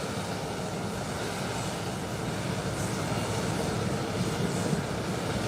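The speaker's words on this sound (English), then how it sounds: "Made its 180-degree turn and is about to tunnel down the runway." An American Airlines airliner swings around onto the runway ahead of takeoff, its steady engine roar holding as a continuous, fairly even drone throughout, slightly distant and unbroken, with no talk.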